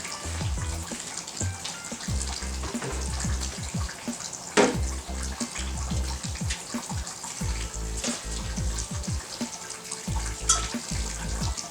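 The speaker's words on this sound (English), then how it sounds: "we're gonna do a quick sparge here" Sparge water is poured through a strainer over the grain bed while brewing a Belgian golden strong ale, a steady close splashing trickle running continuously with small fluctuations.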